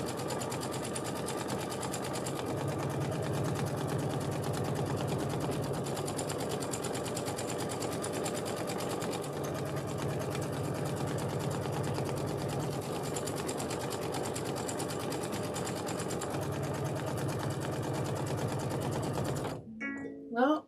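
A sewing machine stitches a book bag, running in a steady close rapid rattle for about twenty seconds before stopping, with brief faint talk near the end.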